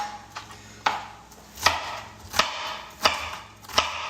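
A knife chops asparagus stalks into quarter-inch cubes on a cutting board for a slow-cooked Thai curry, six crisp, evenly spaced chops landing close and clear with no talking.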